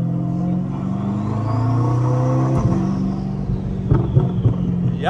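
A built-motor Chevrolet C8 Corvette rumbles close by as its engine is revved, and a few sharp exhaust pops and crackles come through near the end.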